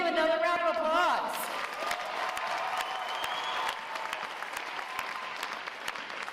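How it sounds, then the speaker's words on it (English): Sustained audience applause fills a U.S. Navy Recruit Training Command boot camp graduation ceremony. It follows a brief amplified voice at the start and continues as steady, dense clapping from a large crowd. "Let's give them another round of applause."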